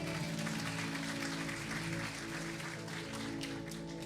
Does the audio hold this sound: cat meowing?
no